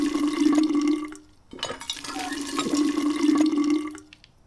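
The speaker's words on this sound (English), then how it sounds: "And then fill my other water container." Water runs steadily into containers in the We Happy Few video game, a loud pouring stream that pauses briefly partway through, then resumes before stopping.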